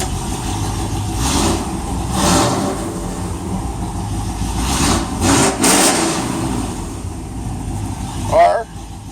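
A Chevy small-block 355 V8 with ProFlo 4 port fuel injection idles and revs in a few swells under the hood of an OBS pickup, steady and close, with someone talking over it.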